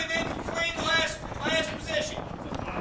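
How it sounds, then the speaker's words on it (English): Strong gusty wind roars across the microphone at an outdoor rimfire rifle range, a broad rushing buffet that swells and fades in waves, with faint voices talking underneath. "Can't hear each other with all the wind"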